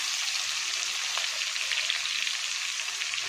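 Chopped onions sizzle in hot oil in a kadai, a steady, bright frying hiss with small crackles, close and even, with no talking over it.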